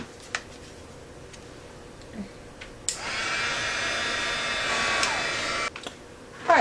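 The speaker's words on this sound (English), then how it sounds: "then I'm going to heat emboss this" A heat gun warms embossing powder on a Valentine's treat bag, starting as a steady, close, loud hiss that holds unbroken for about three seconds before cutting off, with a few small clicks before and after.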